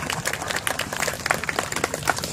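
An audience at a pansori performance gathering claps in thanks, with loose, uneven hand claps and crisp individual strikes standing out.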